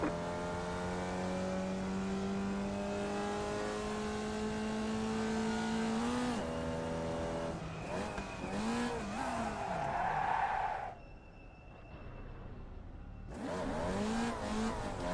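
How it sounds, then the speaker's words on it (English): Race car in a racing video game downshifts and the rear tires spin out, giving a steady high engine drone, a sudden rev, squealing wheelspin, a brief lull, then the engine pulling again, loud and close with no voices. "I downshifted, which caused the rear tires to spin out rapidly"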